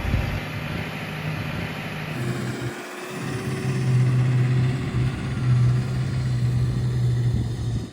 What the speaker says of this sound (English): It uses the loader bucket to push into the gravel and lift the front of the tractor out, and then it can reverse out.